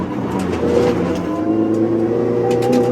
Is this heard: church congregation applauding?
no